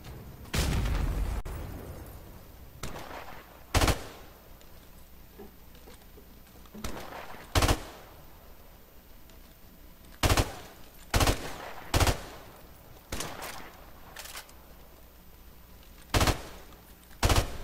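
Gunfire in a Modern Warfare Remastered grand-finals tournament match rings out in sharp, scattered bursts and single loud shots over a low game background, with long gaps between the shots.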